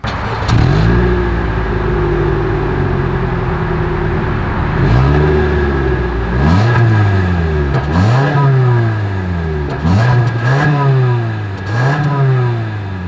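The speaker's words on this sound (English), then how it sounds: "As always, here is that exhaust clip." 2025 Toyota RAV4 exhaust at idle, then repeated revs climbing and falling back, about five blips in quick succession, loud and close with no talking.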